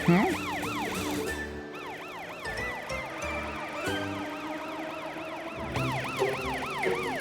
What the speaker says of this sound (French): Il y a un problème avec ta sirène.